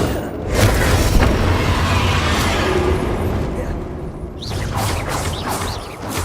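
Booming magical blasts from the Bombarda spell in Hogwarts Legacy, a loud rumbling explosion that rolls on for several seconds, then a quieter stretch with softer crackling bursts near the end.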